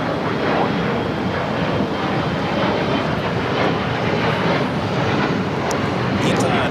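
A jet airliner takes off from the south side at LAX, a steady, loud broadband engine roar that holds evenly throughout without fading.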